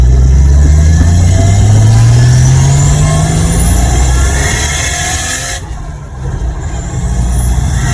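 A Nissan Cefiro with an RB25 engine and a new differential drives through a tight turn, the engine droning loudly and steadily with rising revs, close to the car and with no talking.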